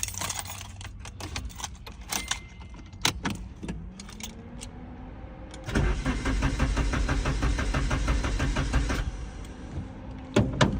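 A Nissan 240SX with a new plug wire has keys jangling before its engine cranks steadily for several seconds without catching, the starter whirring rhythmically up close before falling silent.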